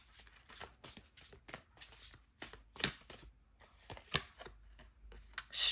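Tarot cards are shuffled by hand in a series of quick, crisp riffling slaps and flicks, close and fairly soft, with an uneven rhythm and brief pauses between bursts.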